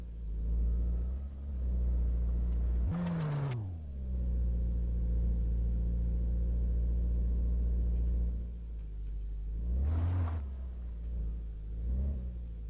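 A junkyard car's engine idles in a steady low rumble, with a couple of short revs rising and falling as it is put into reverse; no talk over it.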